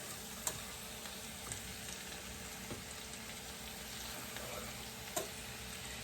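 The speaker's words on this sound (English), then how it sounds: "I'm going to start wilting this spinach." Spinach wilts in a couple of tablespoons of olive oil in a pan on medium heat, giving a steady, close hiss of sizzling with a few soft clicks and pops throughout.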